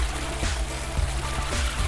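Tap water pours steadily from a faucet in the puzzle game Influent, a continuous close splashing stream lasting about two seconds with no voices.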